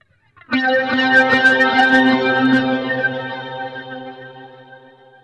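A guitar chord rings out through a BOSS GT-1000 multi-effects processor with all effects engaged, sounding bright and heavily processed with shimmering modulation and echo, then sustaining loud and slowly fading over several seconds.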